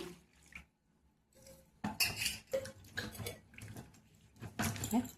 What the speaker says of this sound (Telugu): ఇప్పుడు వీటిని శుభ్రంగా ఒక గిన్నెలో వేసి కలుపుకుందాం.